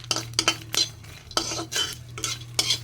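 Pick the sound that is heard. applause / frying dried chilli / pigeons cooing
frying dried chilli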